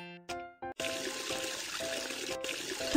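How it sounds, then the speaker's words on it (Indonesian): Cartoon faucet water in a Baby Bus mobile game runs in a steady stream after a few short chiming game tones, a continuous splashing pour that fills the rest of the moment, close and without speech. "Tutup keran, pastikan untuk menghemat air."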